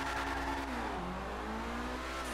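Lowered, stanced car accelerating in GTA 5, a steady engine drone rising and shifting in pitch with a continuous revving tone, close and loud without any talk.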